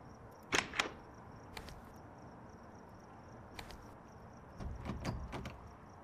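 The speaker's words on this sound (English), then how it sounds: "Literal Minecraft door audio." A Minecraft-style wooden door sound in a horror video game: a few sharp creaks and clacks as a door opens and shuts, spaced out over quiet background.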